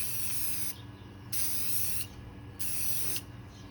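Three steady bursts of hissing spray paint from an aerosol can with brief pauses between them, close and fairly even in loudness.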